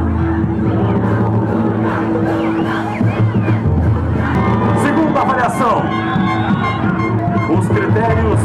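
Supporters of Garota Verão regional-stage beauty pageant candidates at Praia do Hermenegildo beach make a steady, loud crowd roar with scattered whoops and shouts. Announcer talk sits over the ongoing hubbub.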